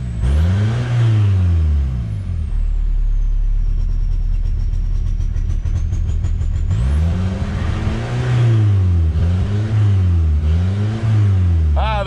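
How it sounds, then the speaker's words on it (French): A VW Golf 3 GT 110 with an aftermarket mod being started and revved, loud and close, with a steady idle broken by repeated rising and falling revs across the whole stretch. "Elle démarre, est-ce qu'elle accélère?"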